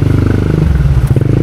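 A Mio Gear scooter-style motorcycle putters steadily at close range while being ridden, its engine pulsing in a fast, even rhythm with a brief rattle partway through.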